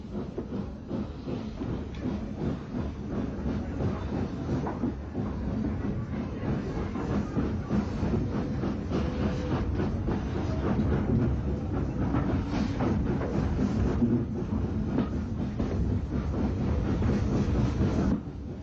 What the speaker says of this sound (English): N15X Class 460 32329 Stevenson prepares to work an enthusiast special to Brighton